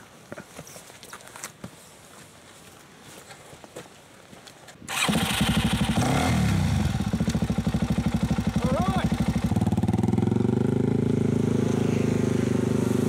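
A Suzuki DR-Z400E dual sport motorcycle starts after some footsteps and handling noises, then its single-cylinder engine runs loud and close with a rapid even beat, rising in pitch as it revs and pulls away.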